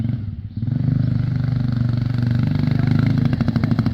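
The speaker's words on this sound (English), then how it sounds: "if the bike sounds like this coming out of the corner," A Honda CRF110 dirt bike engine bogs as it pulls out of a corner, a loud, rough low drone that dips briefly near the start and then holds steady with a slightly uneven throb, no talking.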